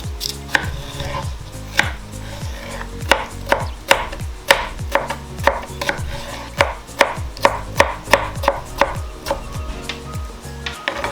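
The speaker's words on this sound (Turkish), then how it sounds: "Evet turşularımı doğruyorum" A knife chops pickles on a cutting board in steady, crisp strokes, about two or three per second, close up and alone.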